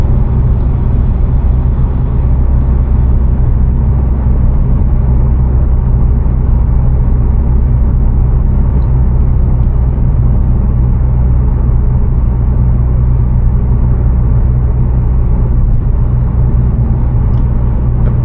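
Mazda 3 Turbo fitted with a Corksport downpipe cruises at about 60 mph on the highway, giving a steady, loud low-frequency engine and road drone with constant tire rumble throughout.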